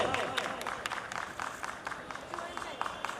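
Audience clapping for a prize winner at a small gathering, a steady patter of hand claps at moderate distance with voices talking underneath.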